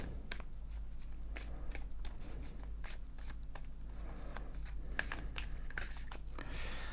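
A deck of cards being handled and cut at a table during a French-language card reading, giving soft papery shuffling and riffling rustles with brief sharper clicks, close and steady throughout, with no voice over it.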